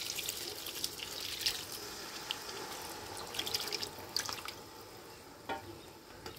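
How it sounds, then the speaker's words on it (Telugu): Tamarind juice is poured into a simmering Andhra fish curry, a soft continuous liquid splashing and trickling with small drips, close and fairly quiet throughout. "ఇప్పుడు చింతపండు రసాన్ని పోసేసుకుందాం మనం."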